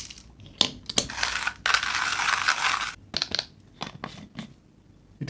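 A Hario Skerton hand coffee grinder crunches coffee beans, close and dry, with irregular bursts of crushing and one longer stretch of steady grinding.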